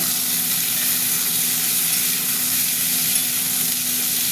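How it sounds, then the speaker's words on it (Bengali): Potatoes and green peas fry together in a wok, giving a loud, even, continuous sizzle and hiss close up with faint stirring underneath; no talking. "এবার আমি সবজিগুলো, আলুটা আর এই কড়াইশুঁটি, দুটো একসঙ্গে দিয়ে দিলাম। এটা ভাজা ভাজা হবে,"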